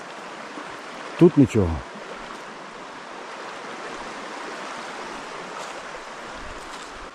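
A river flows nearby in a steady, even wash of water that runs the whole time, with a short burst of speech early on and a walker moving along the bank.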